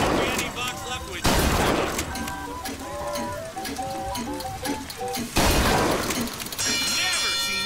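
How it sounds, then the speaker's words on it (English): Gunfire from the video game BioShock Infinite, two sharp bursts of shots breaking over layered game sound effects and music, with talk running beneath. "Never seen shooting like that."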